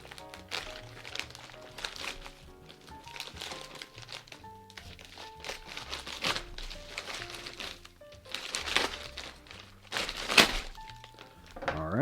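A shipping package is cut open with scattered crinkling, rustling and dull thunks of handled packaging, while soft music plays in the background.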